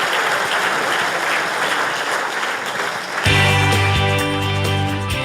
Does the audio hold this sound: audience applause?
yes